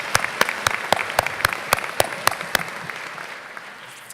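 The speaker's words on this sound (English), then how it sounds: "Let's give these folks a round of applause." Audience applause at a 2016 OCTC college graduation ceremony: a string of crisp, evenly spaced claps rings out in a large hall, thinning and fading toward the end.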